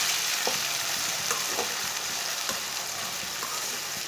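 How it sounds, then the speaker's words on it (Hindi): Onion, chopped tomato and green chilies fry and get stirred in a pan for a spinach and egg curry, giving a dense, steady sizzle broken by light scraping stirs, no talk. "प्याज और सब्ज मिर्च को मैंने 1 मिनट तक मिक्स कर लिया है, थोड़ा सा भून लिया।"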